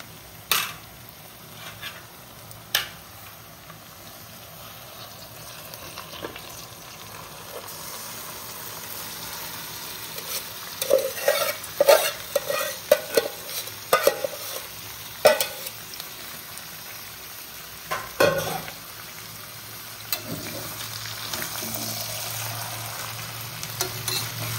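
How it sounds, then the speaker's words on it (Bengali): Mutton pieces stirred and fried in reddened spice masala, a steady close sizzle with repeated scraping and clattering stir strokes, busiest in the middle stretch. "এটাকে এবারে ভালো করে কষিয়ে নিতে হবে।"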